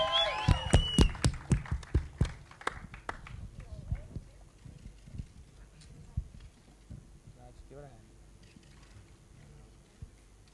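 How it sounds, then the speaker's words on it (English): Audience claps for actress Ileana D'Cruz at a film trailer launch, starting as a loud burst of close, sharp hand claps in the first seconds and thinning into scattered, fainter claps beneath talk from the crowd. "A big round of applause for her."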